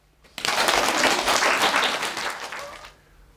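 An audience bursts into applause after a poem about dinosaurs, the clapping starting abruptly, swelling into a full burst, then fading out after about two and a half seconds.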